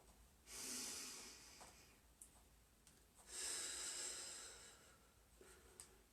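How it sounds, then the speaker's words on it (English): Two deep breaths during a slow yoga flow, each a strong airy hiss of an inhale or exhale lasting about a second, close and clear over faint room noise, with a few small clicks between. "Let's do 3 more deep breaths."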